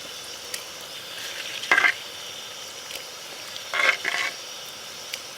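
Washed horse gram pods are stirred in a hot pan for a simple fry, giving a soft, steady sizzle with two brief louder bursts of clatter and hiss as the pan is worked, and no talking.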